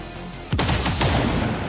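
A single firearm shot aimed at an enemy gunner in the turn-based strategy game XCOM 2 (Long War of the Chosen), a sharp close report followed by a few trailing impact thuds and a lingering rumble.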